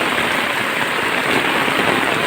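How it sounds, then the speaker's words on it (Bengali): Heavy rain pours down in a dense, steady hiss at a rural cattle market, loud and close with no break, and no voices over it. "বোঝা যাইতেছে যে কত পরিমাণে বৃষ্টি হচ্ছে"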